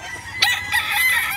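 A gamefowl stag at a Philippine game farm crows close and loud, a single strained cock-a-doodle-doo rising sharply and holding for about a second.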